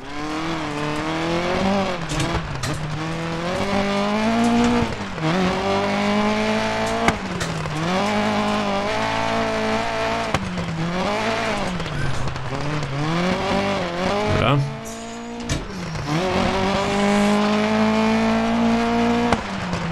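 Rally car in Dirt Rally 2.0 drifting and sliding on a gravel stage, engine revving in rising and falling sweeps with tires squealing and skidding through repeated slides, loud and close throughout.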